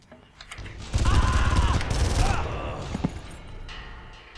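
Rapid automatic gunfire from a weapon in the shooter game Far Cry, a loud sustained burst of shots lasting about a second and a half with explosive echoes, then fading, with a voice speaking over it.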